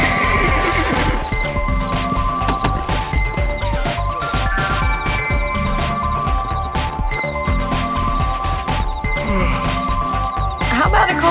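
Horse neighs and clip-clopping hooves from the Red Dead Redemption video game, heard under game music, crashes and in-game character voices across a busy, steady mix.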